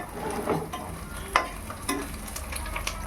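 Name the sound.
eggplant pieces frying in hot oil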